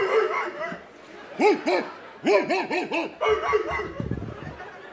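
A man imitates a dog with several rhythmic barking yips in short bursts, close and loud, amid talk and chuckling in a radio studio.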